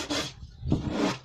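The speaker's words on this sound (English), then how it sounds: "So we finished with the sanding." Sandpaper rubs back and forth across wood on a kids' planter box, two short rasping strokes close by with a brief pause between them, with no talking.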